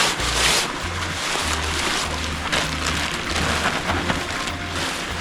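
Continuous crinkling and rustling of a backpacking hammock rain tarp being unrolled and handled nearby, with a low rumbling undertone throughout.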